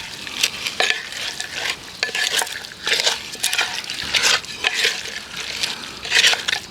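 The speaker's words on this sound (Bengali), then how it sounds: "হাতা দিয়ে এই তেলটাকে তলায় উপরে মিশিয়ে দেবো, ওপর নিচ সামনে পেছনে মিশিয়ে নেবো" A ladle stirs hot oil in a cooking pot for handi mutton, the oil sizzling steadily under repeated close scraping and swishing strokes at a brisk, uneven rhythm.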